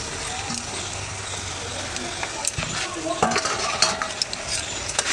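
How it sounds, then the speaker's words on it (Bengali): Onion, garlic and ginger frying together in a pan for a Bengali fish curry, with a steady sizzle and occasional stirring scrapes and clinks of a spoon against the pan. "আর একটু এটা ভাজা হবে, তাতে রসুনগুলো, পেঁয়াজ, আদা, রসুন সব একসঙ্গে মিশে যায়"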